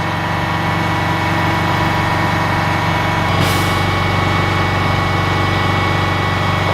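An army vehicle's engine idles steadily and loudly at close range, a constant droning rumble with a brief hiss partway through.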